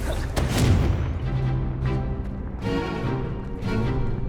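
A Confringo fire spell blasts off in Hogwarts Legacy, a loud booming burst up front followed by rumbling, crackling echoes inside a dense, busy battle mix.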